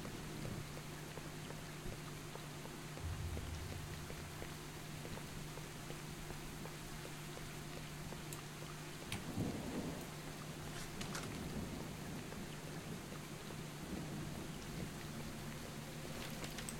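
Heavy, steady rain hisses throughout the game S.T.A.L.K.E.R. Shadow of Chernobyl, with a low thunder rumble midway and a few faint crackles, no voices.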